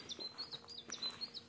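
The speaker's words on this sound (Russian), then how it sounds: "Ой, как птичка поет, шикарно." A small bird sings outdoors in spring in Siberia, repeating short high chirps and tweets in a quick, uneven rhythm, faint and fairly distant against quiet open air.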